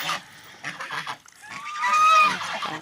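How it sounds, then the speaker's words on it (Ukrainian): Geese honk loudly and repeatedly, a noisy overlapping flock calling close by with harsh, nasal cries rising toward the end. "Випустила гуси і гуси галас зробили"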